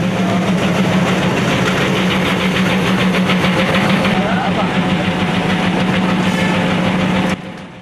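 A train runs along a railway during a rail strike, a steady loud engine drone with rhythmic rumbling that continues for several seconds before cutting off abruptly, while voices talk over it.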